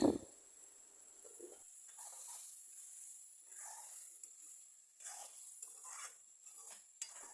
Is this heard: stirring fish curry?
yes